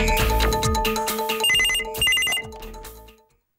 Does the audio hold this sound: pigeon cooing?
no